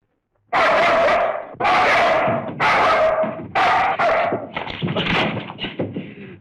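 A dog barks loudly and close up in a run of deep, repeated barks, ending in quicker, shorter yips.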